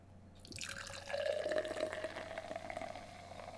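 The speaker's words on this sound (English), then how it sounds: "The theatrics of a however many second pour this will be into the strange glass." A drink pours into a glass in a steady, gurgling stream that swells and then trails off, quiet and close.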